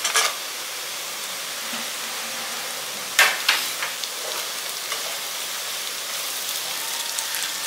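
Garlic and cashews fry in a pan with oil, giving a steady fine sizzle with crackling pops and a few louder spits, close and continuous throughout.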